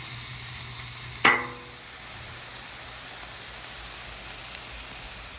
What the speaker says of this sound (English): Oh, and there's that sizzle.